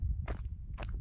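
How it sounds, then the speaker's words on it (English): Footsteps walking, two soft scuffing steps heard close and fairly quiet over a low rumbling background. "We'd hear you walking if you walked quite like this."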